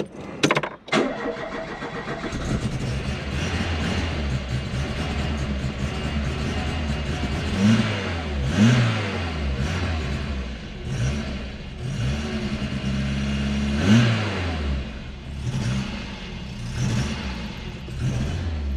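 A Phase 1 Peugeot 205 kept in a shipping container garage cranks and starts with a sharp catch, then idles roughly and is revved in repeated swells, close and loud.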